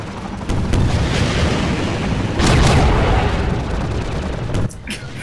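Rocket explosions in a video game, a sustained roar of loud blasts and rumbling booms, with a sharp burst near the end, dense and close.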